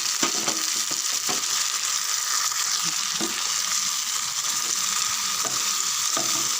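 Onions, four tomatoes and curry leaves sautéing in a pan for chicken gravy: a constant loud sizzle with occasional stirring scrapes and knocks, no voices.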